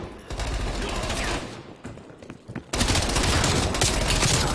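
An MP5 submachine gun in Call of Duty: Cold War fires in long, dense automatic bursts, loud and close. A short break brings scattered shots and game noise before rapid fire resumes.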